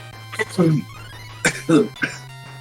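A couple of short coughing bursts break out close to the microphone over a steady low hum, with brief pauses between them.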